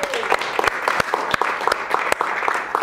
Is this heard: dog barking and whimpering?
no